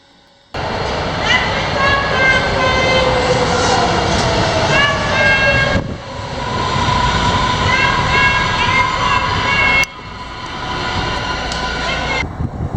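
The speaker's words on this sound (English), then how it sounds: "Here I am at the famous ATL, the most busy airport in the United States" Busy terminal ambience at Atlanta's ATL airport, the busiest in the United States: a loud, continuous broadband roar with steady mechanical hums, briefly dipping twice before resuming, with indistinct voices blended into the background.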